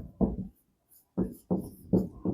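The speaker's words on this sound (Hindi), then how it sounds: "स्टेटमेंट हम लोग इस तरह से लिखेंगे" A statement being written out by hand makes scratchy writing strokes in short bursts separated by brief pauses. The sound is close and fairly quiet.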